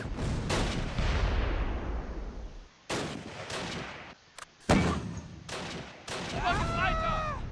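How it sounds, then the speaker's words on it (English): Gunfire and artillery in the Close Combat: Last Stand Arnhem war game, heavy booming blasts and bursts of shots in irregular clusters, loud and close, with brief quiet gaps between volleys. "We're under heavy fire."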